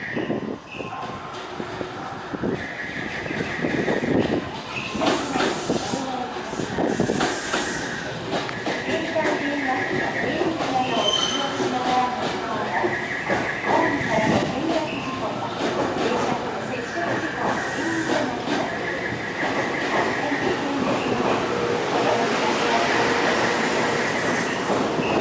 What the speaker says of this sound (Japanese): まもなく3番線に電車が到着いたします